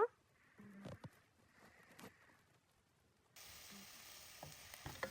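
Onions hitting half a cup of hot oil for a Bengali chicken and potato curry, a quiet sizzle with soft clatters that jumps into a louder, steady crackle partway through.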